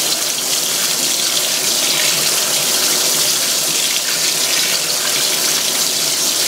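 Fisher & Paykel washing machine running a normal load of clothes, water gushing and splashing steadily into the drum, a continuous close hiss with no pauses.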